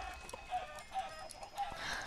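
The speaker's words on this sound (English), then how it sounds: "Don't go down to the chickens, Brandon." Chickens in the Minecraft video game give a few soft, short clucks at intervals inside a chicken coop. The sound is quiet, with no one talking.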